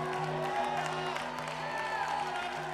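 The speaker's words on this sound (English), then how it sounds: "Give the Lord a great clap offering." A church congregation at a Sunday morning service claps and cheers together, a dense sustained wash of applause with whoops and a steady musical drone underneath, continuous and fairly loud throughout.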